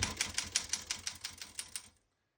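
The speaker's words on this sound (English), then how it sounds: "We're going to keep that on single for now and finish typing." A 1937 Royal KHM vintage desktop typewriter types a quick, even run of about a dozen crisp key strikes, close and clear, before stopping abruptly into silence.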